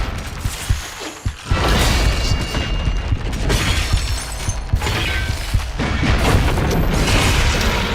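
Enemies explode in DOOM: The Dark Ages amid loud, dense combat noise, with heavy booms and crashing bursts layered over a constant roar that briefly dips before surging again.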